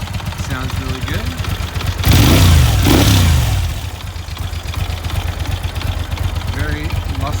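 A 2004 Moto Guzzi V11 Sport V-twin with aftermarket Fast-By-Ferracci exhaust pipes idles with a deep, loping throb, then revs sharply for about two seconds before settling back to a close, loud idle.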